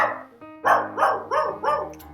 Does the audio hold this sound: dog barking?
yes